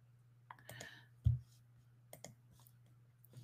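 Sharp computer mouse clicks, a few isolated snaps spaced irregularly with one louder click, over a steady low electrical hum in a quiet room.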